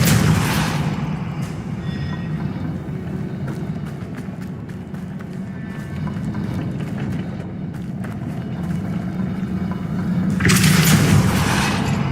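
Explosions from the Bombarda spell in a Harry Potter video game: a deep boom opens, a low rumble follows, and a second loud burst comes near the end.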